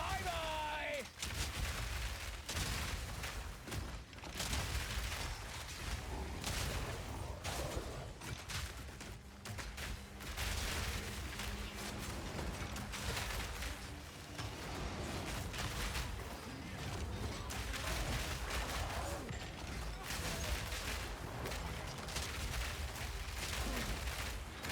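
Dense, continuous gunfire and repeated grenade detonations from Path of Exile 2 combat with explosive shot, loud overlapping bursts and booms filling the whole stretch, with a voice talking underneath.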